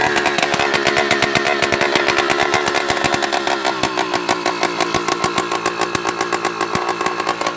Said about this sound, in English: My bike is so loud now. The top part of the gasket is missing.